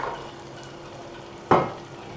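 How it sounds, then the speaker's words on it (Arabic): Shelled green beans tossed into a pot of onions softened in oil for mdarbal, a sudden loud sizzling burst that fades, with faint stirring and frying before it and no voices. "توا باش نرمي اللوبيا، هي اللوبيا اللي فصصتها."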